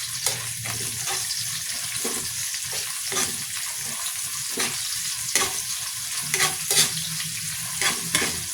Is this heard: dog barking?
no